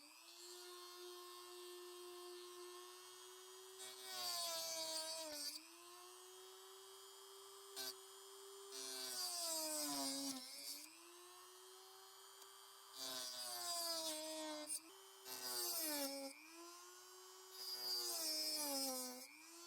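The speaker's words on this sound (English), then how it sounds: "I think the cleanest way I can get this out is to cut it out with a motor tool." A motor tool cuts out an old turnout on a model railroad layout, a steady high whine that dips in pitch each time it bites into the material, in several grinding passes close by.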